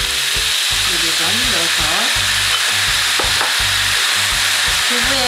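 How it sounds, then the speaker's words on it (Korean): Tofu and seasoning stir-fry in a hot pan with a constant loud sizzle, broken by repeated scraping and tossing strokes of a utensil. A voice speaks briefly over the cooking. "살짝 볶아주세요"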